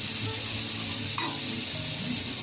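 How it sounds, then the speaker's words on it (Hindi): Vegetables fry in a little leftover oil in a kadhai over full flame, giving a dense, even sizzle at close range with one faint clink partway through. "जितना सा ऑयल बचा था इसमें तो मैं ये अच्छी तरह से फ्राई कर लूँगी"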